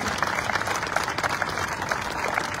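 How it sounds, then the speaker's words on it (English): A crowd at an outdoor groundbreaking for a Main Street market in Milford, Nebraska claps steadily for a local family, the applause dense and fairly close throughout. "If we can give them a round of applause"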